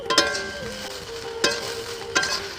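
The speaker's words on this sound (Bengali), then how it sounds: "সব জিনিস দেওয়া হয়ে গেছে এখন আমি একটু নেড়ে নিচ্ছি" Spatula scrapes and clanks against a frying pan as chow mein noodles are stirred, with a light sizzle underneath and a few sharp metallic knocks.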